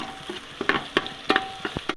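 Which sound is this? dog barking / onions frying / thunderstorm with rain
onions frying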